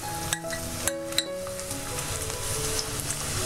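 Chopped garlic, ginger and onion fry in a pan for a Kerala king fish curry, with a steady loud sizzle, a few sharp clinks of a utensil against the pan, and stirring.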